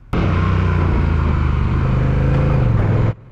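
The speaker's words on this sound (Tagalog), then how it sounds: "maririnig nyo dito sa video yung automatic na pagbabago ng gear niya habang umaandar" Honda Rebel 1100 cruiser motorcycle with automatic dual clutch transmission revs loudly while riding, its engine note dipping and rising as gears shift, then cutting off abruptly.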